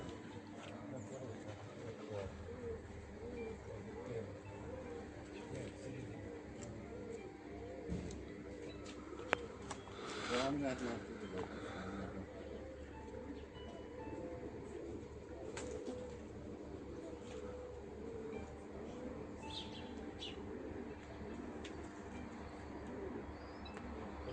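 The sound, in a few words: released pigeons cooing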